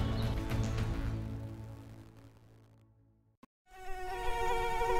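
Mosquito buzzing in a dengue prevention announcement, a steady insect whine layered with a busy background that fades toward a brief silence, then a bright buzzing tone returns loudly alone.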